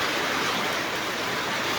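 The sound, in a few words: heavy rain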